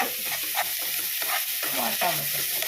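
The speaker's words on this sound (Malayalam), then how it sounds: "ഇത് സബോള നന്നായിട്ട് വഴഞ്ഞ് വരണം" Finely chopped onions with a little salt sautéing in a pan, a dense continuous sizzle close by with soft stirring scrapes running through it.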